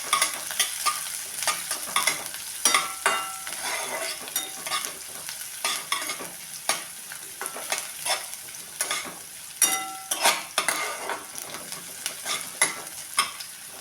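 Finely chopped onion fries in oil while a utensil stirs and scrapes the pan in repeated bursts over a continuous sizzle, close and moderately loud, with no one talking.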